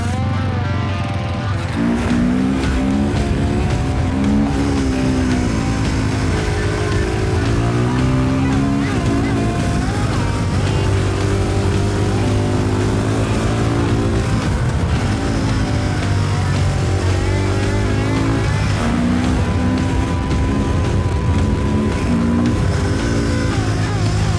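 A new motorcycle's engine fires and runs steadily after its key is cycled, a loud, continuous rumble with shifting pitch as the throttle rises and falls, holding close and strong throughout.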